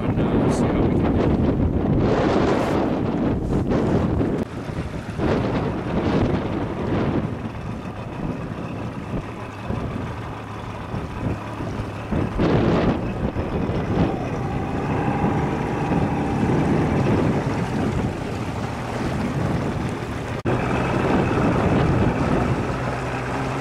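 A fishing boat's outboard motor drones through a narrow channel on Rainy Lake, Ontario. Heavy wind buffets the microphone over it, with water splashing and a rough, continuous engine rumble throughout.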